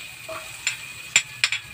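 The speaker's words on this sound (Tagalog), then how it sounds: "Nagigisa na sa butter." Seashells sautéing in butter in a pan give a low steady sizzle, broken by a few sharp scraping stirs and clinks of a utensil, close and alone.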